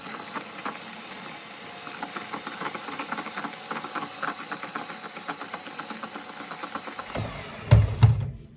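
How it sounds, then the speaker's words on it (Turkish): An electric mixer whisking batter whirs steadily with a buzzing, rattling texture, then ends in a few heavy thumps and clatters near the end. "Mikserle çırpacağım güzelce."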